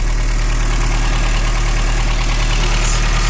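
A Toyota 22RE four-cylinder engine idles roughly after a cold start, a loud, close, steady low rumble with an uneven pulsing beat throughout.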